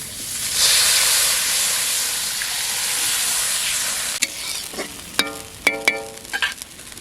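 Boiled potato and plantain drop into a hot pan of fish curry in a village kitchen, setting off a loud, hissing sizzle that fades to a softer fry, followed by several sharp clinks of a metal utensil.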